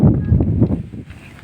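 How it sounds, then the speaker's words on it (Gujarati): Gusty outdoor wind ahead of rain under darkening clouds buffets the microphone in low, rumbling surges that ease off toward the end. "જો પવન કેવું ફેંકાય છે"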